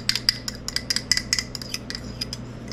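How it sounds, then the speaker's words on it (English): Spoon stirring heated milk for yogurt in a pot, light metallic clinks and taps in a quick irregular series, close but soft. "just a little bit of our heated milk, and just stir some in"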